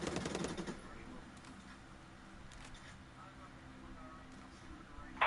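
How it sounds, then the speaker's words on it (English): A short burst of rapid video game gunfire crackles at the start, then fades into a quiet, steady hum. "I need a medic. I hear gunfire."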